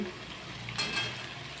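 Onion and tomato pieces fry in oil with whole cumin, cinnamon, cardamom and bay leaf for a Bengali mutton curry, sending up a steady close sizzle with a brief stir scrape partway through.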